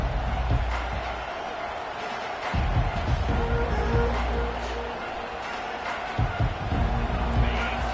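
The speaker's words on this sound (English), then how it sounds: "This crowd bringing an ear-splitting welcome to their visitors." Stadium crowd noise from a college football video game, Michigan State at Georgia, a steady loud roar with swelling cheers and bursts of low thumps throughout.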